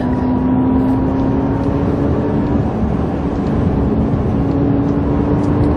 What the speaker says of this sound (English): that light noise, what is that? That's the motor and the drive inverter